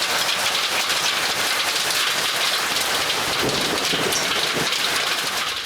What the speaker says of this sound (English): that was a heavy rain, high winds